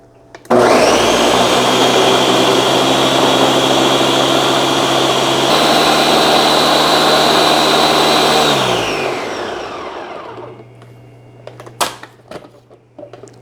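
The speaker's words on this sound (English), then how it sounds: "Now I'm gonna blend it really well." Electric blender grinding whole cloves, allspice, cumin and peppercorns, a loud steady whir running for several seconds before winding down, followed by a few light clinks and handling noises.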